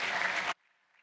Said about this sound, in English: maybe a big round of applause for you, the audience